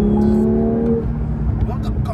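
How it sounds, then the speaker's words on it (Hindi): A Porsche 911 GT3 engine rises steadily as it rev-matches on a downshift. The revving is loud and close, with road and tyre roar beneath it. A person talks over the engine. "रेव मैच कर रही है गाड़ी भाई, रेव मैचिंग है इसमें।"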